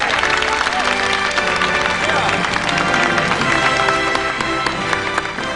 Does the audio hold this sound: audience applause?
yes